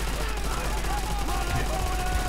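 An MG-42 machine gun firing in Call of Duty: World at War, a steady rapid rattle buried in a dense wash of battle noise, with a voice speaking over it throughout.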